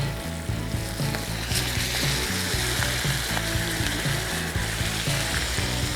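Fish pieces for a cauliflower fish curry frying in a pan, a steady, close, dense sizzle and crackle of hot oil running throughout with no voices.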